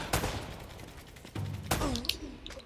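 Gunfire in the video game Uncharted: a few scattered gunshot bursts and thuds rise over a busy game soundscape, with a louder cluster of impacts near the end.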